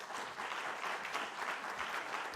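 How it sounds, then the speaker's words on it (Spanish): Audience applause at a patient congress on osteoarthritis in Barcelona, a dense, even burst of clapping from a conference crowd that holds steady throughout. "Un fuerte aplauso"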